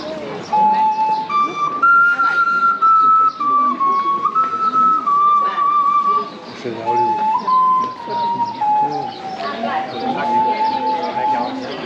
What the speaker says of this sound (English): Quite an amazing sound that man's playing. This whistle that he's got is made out of pottery